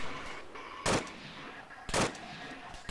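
AK rifle fire in a video game, three loud, sharp bursts spaced about a second apart over a low, quiet background.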